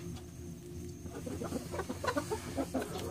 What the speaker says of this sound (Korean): 남이는 총 다섯 개를 낳았는데 암탉 다섯 개가 있어서